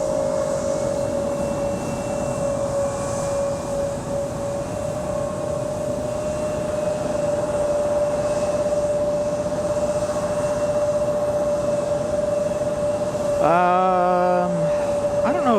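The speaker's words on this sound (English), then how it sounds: "Flight Guest Academy, another Piper Archer." A Piper Archer light aircraft at Raleigh Durham International Airport produces a continuous loud engine drone with a steady tonal whine. Near the end, another rising mechanical tone briefly overlays it.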